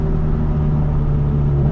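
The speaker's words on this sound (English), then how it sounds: "Hit a little burble for the boys." A Volkswagen GTI's exhaust makes a steady low rumble that stays close and fairly loud throughout, with no clear pops or crackle standing out.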